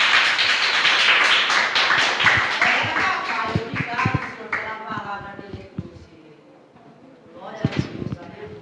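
Church congregation clapping in praise, a dense burst of applause at the start that thins into scattered claps under a preacher's voice, then a brief renewed round near the end.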